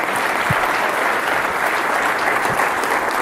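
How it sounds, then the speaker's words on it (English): Sustained applause from a conference audience for event partners, a broad, even wash of clapping that stays loud and constant from start to finish. "Please give me another round of applause for our partners that are joining us today."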